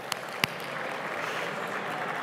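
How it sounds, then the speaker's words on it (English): At the Arkansas Business of the Year awards, an audience claps steadily, a dense even patter of many hands in a hall, opened by a couple of sharp, louder claps nearby. "Let's start by clapping."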